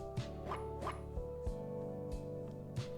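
Cricket, a dog in the game Demonschool, lets out a series of short yipping barks, about six spaced across a few seconds over a steady musical background.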